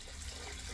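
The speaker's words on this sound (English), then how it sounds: "we'll get back to that after we dump some of this dirty water out of both machines" Dirty water poured out of a carpet cleaner machine's tank, a faint steady splashing gush with low rumble, continuous and unbroken for a brief moment, no talk.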